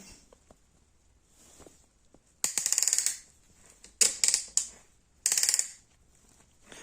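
Small metallic clinks and rattles, then a few bright ringing jingles in short bursts, as a coin is handled and tapped close by while working on a Bajaj Boxer motorcycle.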